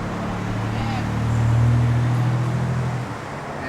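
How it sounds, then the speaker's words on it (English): A loud car passes on a nearby road, its low engine rumble rising to a peak mid-way and then fading, heard under someone talking. "And another loud car that just went by."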